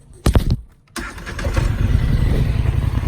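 A 2018 Polaris Sportsman 850 SP ATV cranks briefly, pauses, then fires up and settles into a loud, steady idle close by, with no talking.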